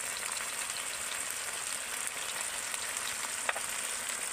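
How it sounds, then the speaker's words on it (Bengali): Masala frying with tomato paste, chopped green chillies and salt while being stirred, giving a steady, dense hissing sizzle throughout with a brief scrape near the end. "এইভাবে নেড়ে নেড়ে কিন্তু মশলাটা কষিয়ে নিতে হবে"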